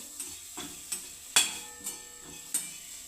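A spoon stirs sugar and lemon powder into a filling mixture for Amravati-style sambhar vadi, giving six sharp, evenly spaced clinks against the bowl over roughly three seconds, close and clear, with no speech.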